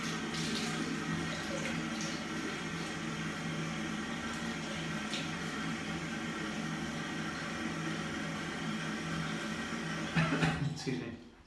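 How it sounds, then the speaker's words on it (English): Water running steadily from a bathroom tap as a face is wetted before a wet shave, a continuous soft hiss with light splashing and a brief louder splash near the end. "I'm just going to wet my face then."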